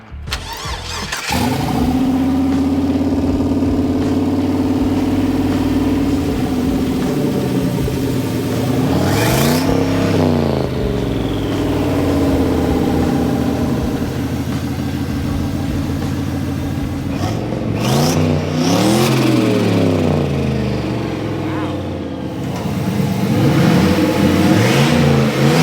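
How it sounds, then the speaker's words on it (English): A burnout car's engine starts and revs hard again and again, rising and falling with loud sustained roars and a throaty idle between the pulls, close by and with no talk over it. "We're pulling this thing out to do some burnouts."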